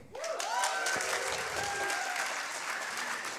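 Audience applause at a Science Slam evening, dense steady clapping from a crowd sustained throughout, with a few voices and whoops mixed in.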